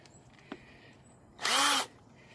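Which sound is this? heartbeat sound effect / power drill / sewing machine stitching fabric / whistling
power drill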